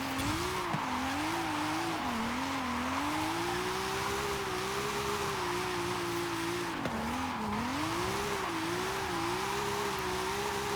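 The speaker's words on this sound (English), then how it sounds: "I'm doing a really high speed drifting here" A Forza video game car drifts at high speed, its engine droning loudly and continuously with a wavering pitch that dips and climbs, layered over a steady tire-squeal hiss, with no voices.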